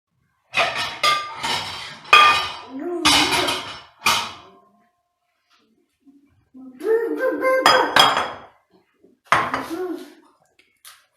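A mixing bowl is picked up and handled in a home kitchen, with several bursts of ringing clinks and scrapes of dishes and cutlery separated by silent pauses.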